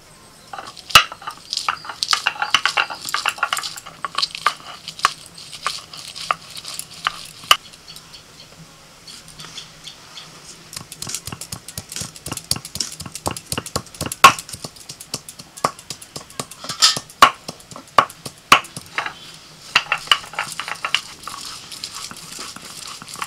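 Garlic being ground into a paste, heard as a long run of close, irregular scraping strokes and sharp knocks that bunch into quicker bursts partway through, with no talking.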